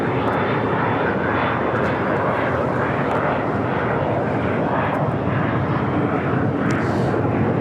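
A brand-new Spirit Airlines Airbus A321neo jet airliner at LAX gives a loud, steady, broadband engine roar that stays level the whole time, with no clear talk over it.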